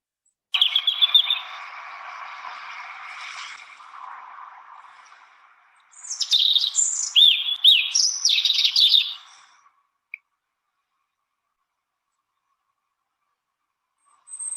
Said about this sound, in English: you will be able to hear the song of a robin